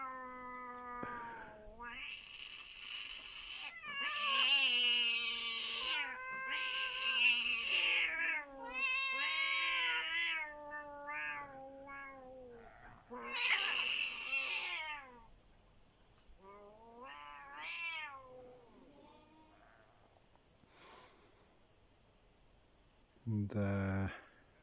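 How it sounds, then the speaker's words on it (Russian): A female cat fighting a tomcat, with drawn-out yowls and caterwauling that rise and fall across the scene, loud and close, ending in a sharp hiss or spit. "Вот ни разу не видел, чтоб кошка дралась с котом."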